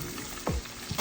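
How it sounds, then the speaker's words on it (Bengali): Mutton pieces fry in oil over a low flame, giving a dense, steady sizzle close by with a couple of soft low thumps from the pan. "আমি একটুখানি লো ফ্লেমে ভাজছি।"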